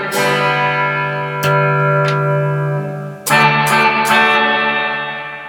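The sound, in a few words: tube reverb processor on guitar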